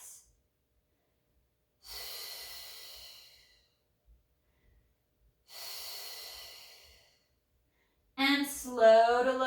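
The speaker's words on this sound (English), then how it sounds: "2 more breaths." Two deep, slow breaths during a Pilates mat exercise in a home garage gym, each a long airy exhale of about two seconds separated by quiet pauses, followed by a brief burst of voice at the end.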